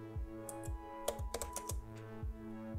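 Keys clack on a computer keyboard as a terminal command is typed, a quick, close, irregular run of soft taps over a low steady hum, with no voices.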